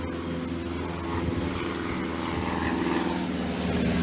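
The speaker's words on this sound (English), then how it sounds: "got an airplane flying over here" A propeller airplane passes overhead, its steady engine drone loud and continuous throughout, rising slightly toward the end, with no talk.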